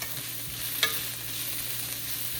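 Onions frying in a pan as salt is added and they are stirred, giving a steady low sizzle with a brief scrape of the spoon near the start, no voices.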